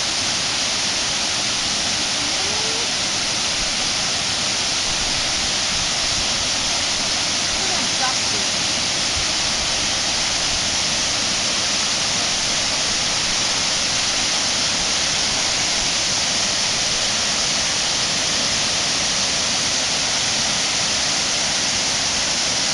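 Steady rushing roar of water pouring over a small fall in the grounds of Blenheim Palace, constant and loud, with a faint voice now and then beneath it.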